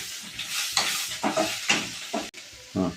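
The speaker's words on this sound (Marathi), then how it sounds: "थोडं परतून घेऊ, त्याला खालीवर करून घेऊ" Turmeric and salt being sautéed and stirred in a pan for spicy poha, giving soft scraping and stirring strokes in short bursts with a steady light sizzle beneath.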